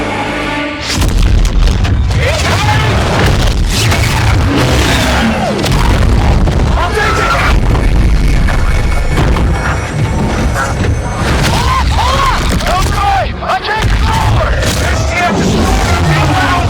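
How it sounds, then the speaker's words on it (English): Call of Duty Infinite Warfare battle sounds with a dense, loud, continuous barrage of booming explosions, crashes and heavy impacts. Voices shout over the din. "All stations, shots fired at the Aegis control tower."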